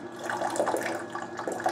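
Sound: GE Profile Opal nugget ice maker running cleaning cycle, water

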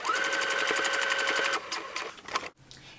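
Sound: sewing machine stitching along a seam of shorts

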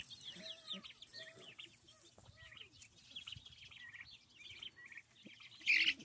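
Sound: angry turkey on a farm with chickens and ducks

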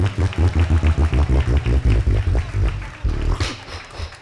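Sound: applause from a live show audience

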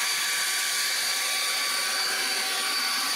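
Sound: blower clearing dust from a concrete driveway crack

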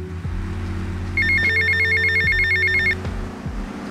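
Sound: telephone ringing in the video game GTA Vice City

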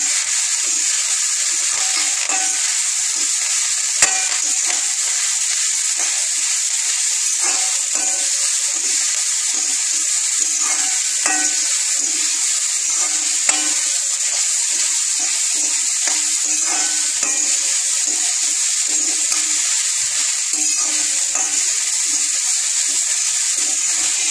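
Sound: stirring and sautéing grated coconut with curry leaves in pan

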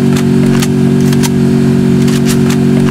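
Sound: car engine in video game Free Fire

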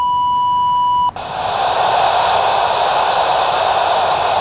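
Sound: ICOM two-way radio static without squelch

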